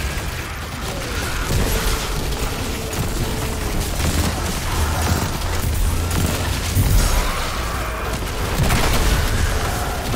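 Gunfire in Destiny 2 during an Arc 3.0 build fight: a dense, continuous run of shots, booms and mechanical clatter keeps going at a steady loud level, with no talking.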